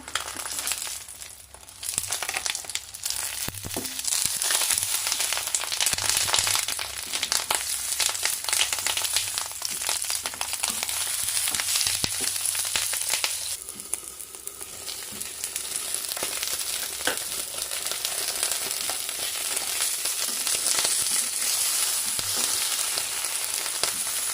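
Banana-leaf-wrapped pomfret paturi, Bengali wedding style, frying two at a time in hot oil: a loud, continuous close sizzle with crackling spatters and occasional crinkling of leaf, running on without speech.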